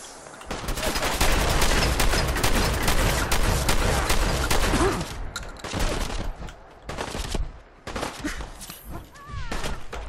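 Dense bursts of rapid automatic gunfire and shots in the video game Fallout 4, Nuka World, close and loud, continuing with brief gaps and thuds toward the end.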